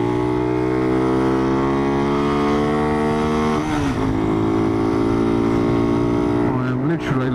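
Small motorcycle carrying a pillion, its engine droning steadily with the throttle held wide open, pitch climbing slowly, then briefly dipping and wavering around a gear change before pulling on, loud and close.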